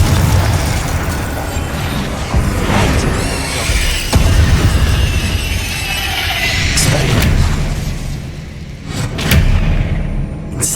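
Bombarda explosion spells blasting in the game Hogwarts Legacy, a dense, loud run of booming bursts and crashes with rumbling debris, heavy low thumps recurring through a chaotic battle din.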